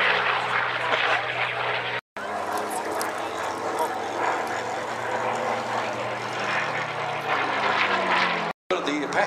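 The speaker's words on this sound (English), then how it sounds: "We've got a Spitfire in front of us." A Supermarine Spitfire at the Warbirds over Wanaka airshow roars past with a loud, sustained piston-engine drone and a slowly shifting pitch. The commentary and crowd are buried beneath it, and the sound cuts out briefly twice.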